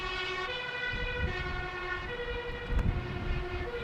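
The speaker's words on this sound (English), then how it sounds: "What you're hearing is a fire truck with the alarm or with the sirens on," A fire truck siren wails steadily nearby at Amsterdam Schiphol airport over a low rumbling background, holding a sustained tonal blare without talking.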